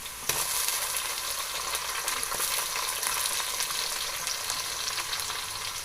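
Aloo gobi with added tomatoes frying in a pan gives a steady, moderately loud sizzle with faint stirring scrapes throughout, and no talking.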